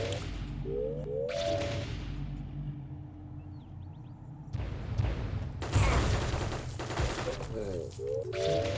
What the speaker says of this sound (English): Oh, I can keep shooting.